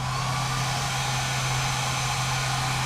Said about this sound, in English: take your blow dryer